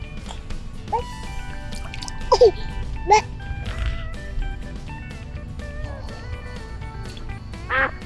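Ducks quacking near a garden pool, several short nasal quacks scattered through the clip over background splashing and faint voices.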